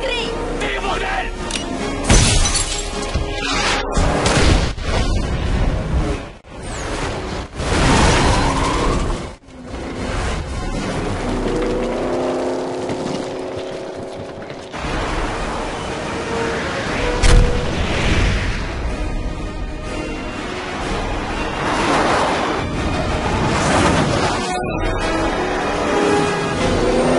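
Rocket launcher fire and explosions in the xXx video game: heavy booms, whooshes and thuds burst repeatedly over a loud, busy soundscape, with a few brief drop-outs, while voices talk throughout.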